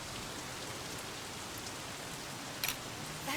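Steady, even rain hisses down in the video game Sleeping Dogs, a soft continuous wash of drops with a couple of faint brief splashes near the end and no voices.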